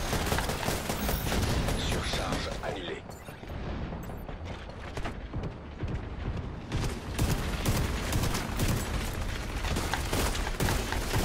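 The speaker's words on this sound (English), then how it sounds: "Keep shooting, buddy." Rapid gunfire in the video game Dark Hours, dense bursts and fusillades of shots with booms, loud and continuous, while players talk over the fighting.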